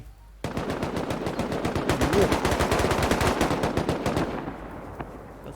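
Automatic fire from M2 and AK rifles in the survival video game Rust: a sustained, loud, rapid string of evenly spaced shots lasting about five seconds, close up, with no clear speech.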